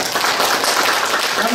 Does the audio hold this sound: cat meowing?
no